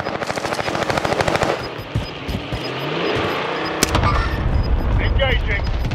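Rapid automatic gunfire from a Call of Duty Warzone match rattles in dense bursts, then gives way to a steadier mix of distant shots and game ambience, with players talking over it.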